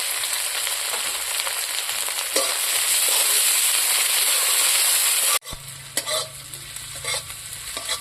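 Onion, bay leaf and green chili fry in hot oil in a wok with a loud, dense sizzle that cuts off abruptly, giving way to quieter crackling and a few scraping stirs.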